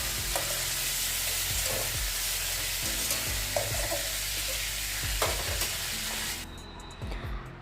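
Prawns and whole garam masala frying in hot oil for a Bengali prawn malaikari, a steady sizzle with a repeated scrape of a spatula stirring the pan; the sizzle drops away near the end.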